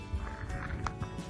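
Horses at a public farm event, moving and snorting with soft hoof sounds and faint whinny-like bursts, fairly close over busy low background noise.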